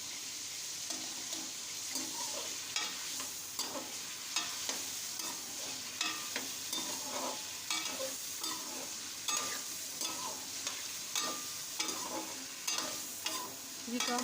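Ginger and garlic fry in a karahi with chicken while a spoon stirs, scraping and clattering in irregular bursts over a steady, quiet sizzle. The cooking is close and no one speaks.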